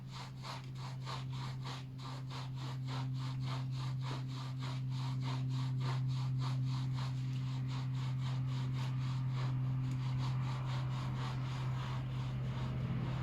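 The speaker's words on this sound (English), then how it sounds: "we're going to clean our nails and fingertips with the use of the bristle side of the sponge" A bristle sponge scrubs nails and fingertips in steady up-and-down strokes, a rapid regular scratching rhythm that carries on throughout, close and moderately loud over a constant low hum.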